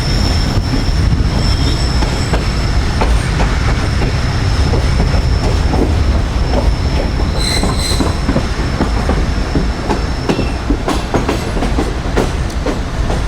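Train running into Dhabeji railway station, heard from inside a Sukkur Express business class coach: a loud, steady rumble of wheels on rails with rhythmic clicks and thin metallic squeals from the wheels throughout.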